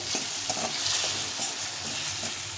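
Turmeric powder frying and being stirred in a pan over low heat, a steady bright sizzle with soft scraping strokes of the spoon running throughout.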